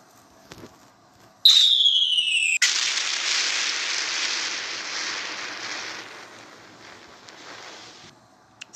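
A bomb dropped in a video game: a descending whistle followed by a loud explosion that rolls into a long, noisy rumble fading over several seconds, with no talk.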